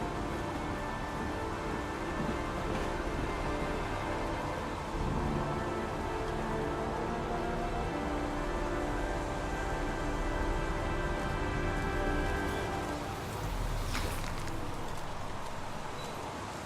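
Steady rain falls in the video game Heavy Rain, a continuous dense hiss lasting the whole stretch with faint tonal layers underneath and a brief brighter burst near the end.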